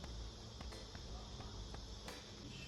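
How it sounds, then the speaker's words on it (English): Honey bees in a Flow Hive during a hive inspection make a steady, continuous insect drone and hiss that fills the whole clip at an even level, with a few faint knocks and shuffles. "There is a lot of bees in here"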